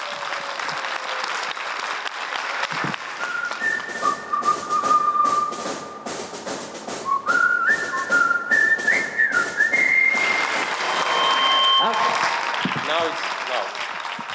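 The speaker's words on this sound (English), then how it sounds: "I would love to ask you for a big applause for Stefania Maritsi" An audience at a panel discussion on media freedom and whistleblowers claps in sustained applause, with loud whistles sliding through the middle and voices under it, continuing for the whole stretch.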